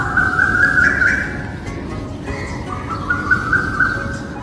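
Birds chirp and whistle in long, bright tones over a steady outdoor background hum, fairly faint and continuous.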